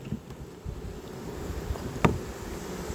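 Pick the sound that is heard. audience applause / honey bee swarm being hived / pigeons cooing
honey bee swarm being hived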